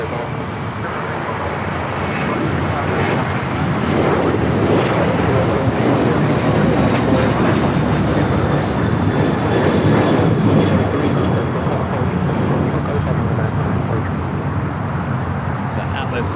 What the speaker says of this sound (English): It's the Atlas Air 747 coming in from Mexico City.